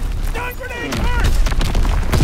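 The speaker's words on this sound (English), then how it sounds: "Mortar shot out." Mortar fire in the World War II shooter Call of Duty: WWII, with booming shots and explosions over busy battle noise while voices talk and shout.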